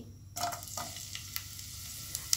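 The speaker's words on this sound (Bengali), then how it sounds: "পেঁয়াজটাকে একটু ব্রাউন কালার করে ভেজে নিব" Chopped onions dropped into hot mustard oil for an egg and potato bharta, a sudden burst of frying followed by a steady low sizzle with occasional light stirring ticks, fairly quiet and close.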